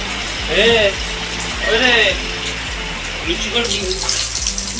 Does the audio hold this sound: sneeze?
no